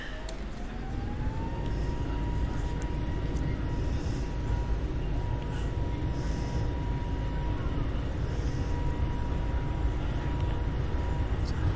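Airbus A320 jet engines spooling up to takeoff thrust for a runway roll in Microsoft Flight Simulator 2020, a rising whine that levels into a steady, loud roar with rumble underneath, continuous throughout.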